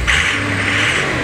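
A 2003 6.0 Powerstroke diesel truck engine revs briefly, a rough mid-pitched roar held steady for about a second, close and loud.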